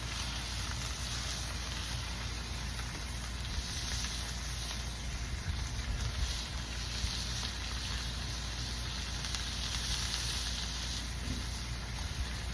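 Ribeye-style steak sizzling steadily over a wood fire with onions nearby, a continuous dense crackle and hiss that stays fairly even and close throughout, with no talking.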